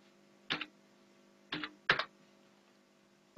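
A computer keyboard gives three short, quiet bursts of typing, each a quick cluster of clicks, separated by pauses in an otherwise still room.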